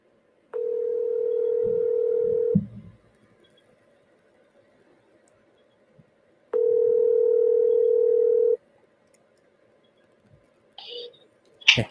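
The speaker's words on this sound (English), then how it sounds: "All right, I'm going to call the CEO and put him on speaker." Two steady telephone tones sound alone on a speakerphone call, each about two seconds long with a pause between them. A brief faint click and a short burst of noise follow near the end.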